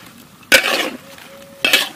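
Mixed vegetables being stir-fried with spices in a large pot for villagers, two bursts of spatula scraping and clinking against metal over a quiet background sizzle.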